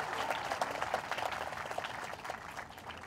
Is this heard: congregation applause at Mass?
yes